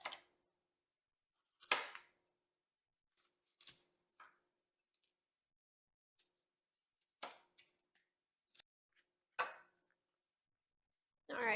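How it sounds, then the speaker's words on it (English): A knife dices a bell pepper on a cutting board, giving sparse, separated chops and taps in small clusters, close and fairly quiet, with long silent gaps between. "So I'm just going to dice up a bell pepper."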